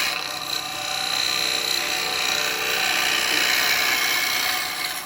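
A chisel cuts into a yew bowl spinning on a wood lathe, giving a steady, close, harsh scraping whir that holds for about five seconds with no pauses and no talking.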